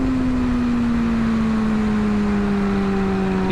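A 2007 Kawasaki ZX6R motorcycle engine while riding, a steady tonal drone that sags slowly in pitch under constant loud wind rush, with no talk.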